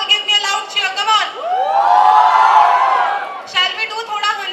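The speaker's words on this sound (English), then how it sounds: "Honey Singh fans in the hall, give me a loud cheer." A festival hall crowd lets out a loud, sustained cheer with whoops that swells and then fades, with chatter and shouting voices heard before and after the swell.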